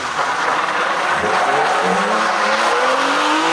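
Tires squeal loudly as a car slides through a turn, the pitch sweeping upward over a roaring engine, close and continuous.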